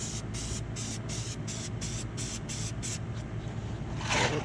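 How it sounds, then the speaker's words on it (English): Air filter oil sprayed in repeated short aerosol bursts onto a Kawasaki Ninja 250 motorcycle air filter, about nine quick hissing pulses in a steady rhythm, close and fairly loud, ending with a longer spray. "all you gotta do is just spray the air filter oil"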